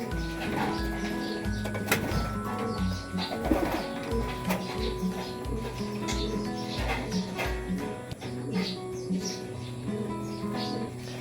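Pigeons coo in low, repeated throaty phrases at close range, layered over one another in a loft of racing pigeons, with occasional wing flutters and faint background chatter.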